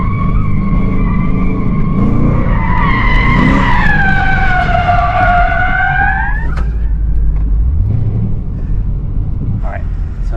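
LS V8-swapped Mazda RX-8 doing a burnout, tires squealing in rising, wavering tones for several seconds over a loud, steady engine roar, then the squeal fades as the engine keeps running; voices faintly underneath.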